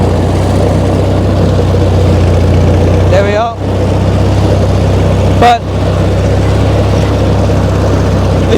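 A tractor engine drones steadily and loudly while cutting grass, with two brief dips in the running note, as someone talks nearby.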